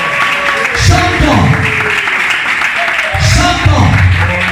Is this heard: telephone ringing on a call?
no